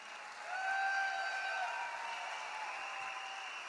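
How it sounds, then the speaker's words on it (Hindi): A large crowd of distributors at a company birthday celebration applauds, a distant, steady wash of clapping heard in a big hall with a faint high tone passing over it. "इनके लिए जबरदस्त तालियां।"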